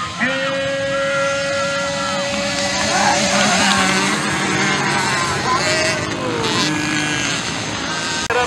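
Several 50cc motocross bikes race at a velocross event, their high-pitched engines whining and rising as they accelerate, loud and continuous, with a race announcer talking over them.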